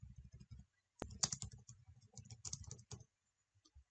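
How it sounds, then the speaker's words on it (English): Quick, close keystrokes on a computer keyboard come in a dense run after a few soft taps, a sharp click starting the burst before it trails off into quiet. "You can click here and type right over all of these instructions."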